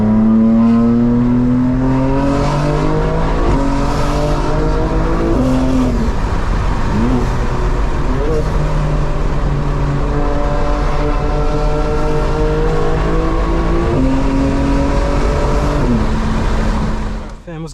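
A 900 hp 2025 BMW M4 Competition xDrive launches hard from inside the cabin, the engine screaming loud and rising through several quick gear shifts, each marked by a brief dip before the pitch climbs again, sustained for the full run.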